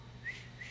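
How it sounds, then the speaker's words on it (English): A short whistle blown twice, a high thin tone rising briefly, then a fainter second toot over a steady low room hum, with no talking. "they bought me this whistle and it still works"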